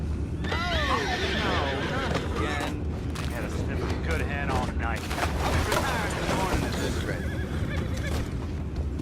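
Horses neigh and whinny repeatedly in Red Dead Redemption 2, loud shrill calls over a dense rumble of hooves and commotion with scattered gunfire, mostly without speech.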